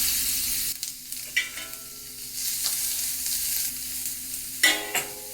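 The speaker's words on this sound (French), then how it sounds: "On va griller les oignons là-dessus." Onions frying in a little oil on a flat griddle plate for chicken fried rice, with a steady sizzle and occasional scraping stir strokes, close and continuous without speech.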